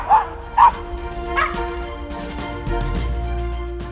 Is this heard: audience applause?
no